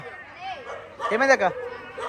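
A dog lets out a short burst of barks and yips in the middle of a busy night scene at the Golden Temple, with people talking before and after.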